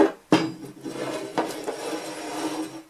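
A bowl picked up and set aside while making whipped shea butter, with a sharp clunk of the bowl, a second softer knock, and quiet scraping handling noises in between.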